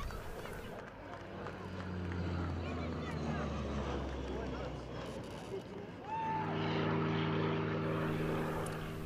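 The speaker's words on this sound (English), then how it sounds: "Serbian national carrier JAT took part with this ATR-72 regional airliner." An ATR-72 regional turboprop airliner flying past at an air show, its steady propeller drone rising and falling in loudness through the clip, with a spoken voice running over it.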